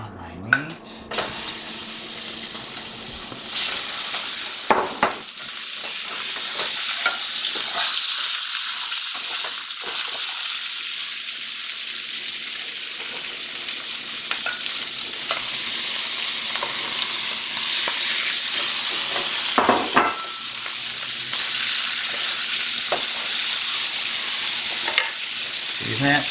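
Meat dropped into hot oil in a heated pan sets off a loud, sustained sizzle. Scraping and stirring knocks break through it now and then, and a faint voice is barely present.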